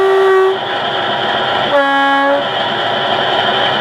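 An Accurascale Class 50 OO gauge model locomotive, BR General Sector 50149 'Defiance', sounds its horn through a small onboard speaker: a short high tone, a pause, then a longer low tone, loud and close over a steady engine hum.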